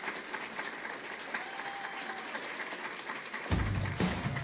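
An audience applauds for former Senator Roy Blunt during former President Biden's keynote address in Chicago, a steady, fairly quiet spread of clapping that swells and grows louder near the end.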